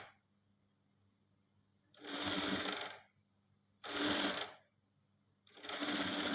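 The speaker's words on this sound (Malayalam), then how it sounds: "ഒരു മടക്കിലേക്ക് ഞങ്ങൾ സ്റ്റിച്ച് ചെയ്ത് കൊടുക്കണം." A sewing machine stitches along a single fold of fabric in three loud, steady bursts of about a second each, separated by short quiet pauses.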